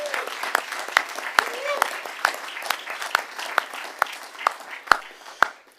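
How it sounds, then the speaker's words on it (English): A school board meeting audience gives a round of applause for valedictorians and salutatorians, with sharp, scattered claps over a steady crowd wash, mixed under a speaker's voice. "give one more big round of applause for all of our valedictorians and salutatorians"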